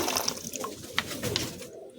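Several pigeons gather and coo softly after feeding, low murmuring calls repeating over a faint background, with a few sharper chirps or flutters, no talk.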